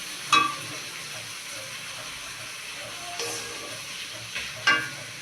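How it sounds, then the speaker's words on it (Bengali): Cumin and spice masala fry with a Katla fish head in a pan, a steady moderate sizzle with occasional sharp clinks and scrapes of a utensil against the pan. "অল্প একটু ভেজে যাতে মশলাটা পুড়ে না যায়।"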